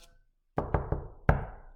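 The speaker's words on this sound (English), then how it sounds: "rat-a-tat-tat at the garden door" Four sharp knocks land on a garden door, three quick ones in a row followed by a slightly louder fourth after a short pause, close and clear in a quiet room.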